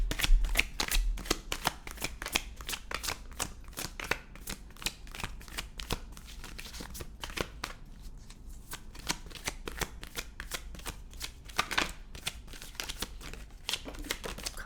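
Tarot cards are shuffled continuously and close up, a dense run of crisp riffling flicks and snaps with brief pauses, no voices.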